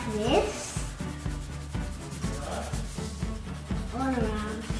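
A pencil scratches out small, short strokes to fill in hair on a portrait drawing, a steady close rubbing texture with a voice rising and falling in the background.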